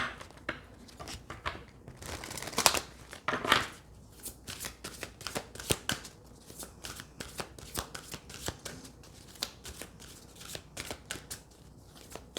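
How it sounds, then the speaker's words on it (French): Oracle cards being shuffled by hand close up, a dense run of crisp riffling flicks and papery slaps in irregular bursts throughout, with brief louder clusters early on. "je vais prendre également d'autres cartes"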